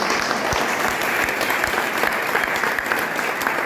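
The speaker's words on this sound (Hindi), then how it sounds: "ताली जोरदार बजाएंगे" Strong, dense audience applause at a business lifestyle seminar, continuous clapping throughout with no talk.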